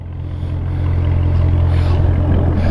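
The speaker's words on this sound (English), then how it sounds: "Listen to that gurgling exhaust." A 2015 Chevrolet Corvette Z06 3LZ convertible with a V8 and seven-speed manual idles with a deep, loud, rumbling gurgle from its exhaust, steady and slightly swelling, heard up close and alone.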